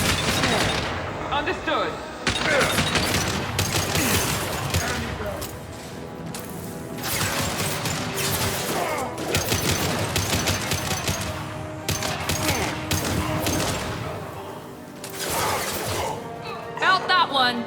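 Heavy impact-shot gunfire and crashing hits from a Mass Effect 2 firefight, with repeated loud bursts running nearly nonstop and a brief voice line between them.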